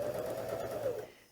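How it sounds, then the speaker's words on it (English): A Janome Sewist 709 sewing machine runs a small zigzag stitch, a faint, steady mechanical hum and whir lasting about a second before trailing off. "Okay, starting out with a small zigzag,"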